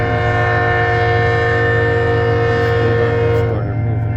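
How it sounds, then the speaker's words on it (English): An eastbound loaded coal drag train rolls past close by, a loud, steady rumble of heavy railcars with sustained horn-like tones throughout. "Eastbound loaded coal drag here."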